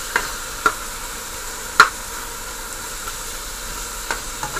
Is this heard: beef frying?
yes